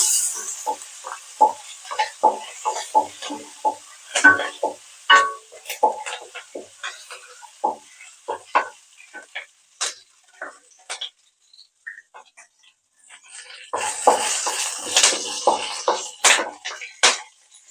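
Curry leaves, green chilli and ginger being sautéed in a pan for home-style chana masala, with frequent sharp clinks of a utensil scraping and stirring against the pan and a brief burst of sizzling and spattering near the end.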